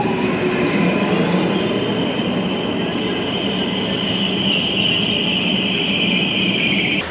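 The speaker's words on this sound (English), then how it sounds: "That's our train" A train rumbles past on a coastal rail line near Genoa, a loud continuous roar of wheels on track with a steady high metallic squeal, close by for the whole stretch.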